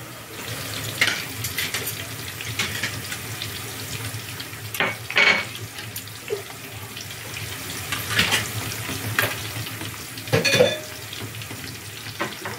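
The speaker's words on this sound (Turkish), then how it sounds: "Biraz daha böyle yüksek ateşte kızartsak güzel olacak" Cauliflower pieces frying in egg batter in a home kitchen pan over high heat, giving a steady low sizzle and crackle with scattered clinks and stirring noises, plus a few brief louder bursts like water or utensil handling; no talk.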